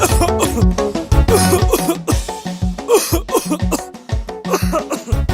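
Harsh coughing in a broadcast advertisement for Kaluma King herbal cough lozenges, a loud series of repeated coughs in quick succession, close to the microphone.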